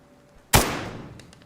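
A single sharp gunshot in the video game DayZ cracks loudly and abruptly, then tails off in a short decaying echo.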